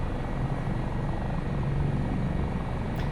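An AS365 Dauphin helicopter flies in a flight simulator game, giving a continuous low rotor and turbine drone that stays steady and fairly loud throughout, with no talk.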